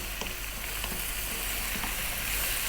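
A tablespoon of ginger garlic paste sizzles in a pan for a lamb potato curry, giving a soft, steady frying hiss with faint stirring.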